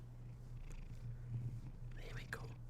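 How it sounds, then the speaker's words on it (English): A pet cat purrs steadily and close, a low continuous rumble with soft rhythmic pulses, while a man murmurs quietly over it. "You hear him purring?"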